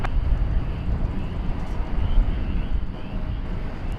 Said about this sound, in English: Flight 2863, American Airlines. A snappy takeoff.